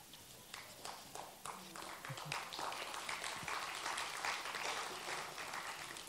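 Audience clapping after a keynote address at a literature festival event, scattered at first and then building into fuller, steady applause heard from within the hall, ending on a sharp tap.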